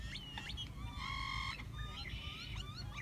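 Several water birds honk and call in quick overlapping bursts, goose-like and nasal, at Vanderbuilt Pond in Beatty, Nevada, with a low background hum.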